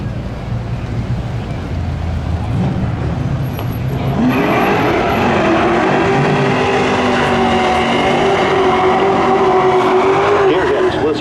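Sport trucks run the 35-lap main event at Seekonk Speedway. A loud, sustained engine roar swells in about a third of the way through and carries to the end, with rushing wind noise and a voice underneath.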